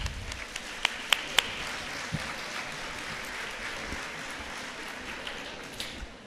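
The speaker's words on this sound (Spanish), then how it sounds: "les pido un aplauso" An audience at an educational talk on multiple intelligences and competencies gives a dense, even wash of applause that holds steady throughout, with a few sharp claps standing out near the start.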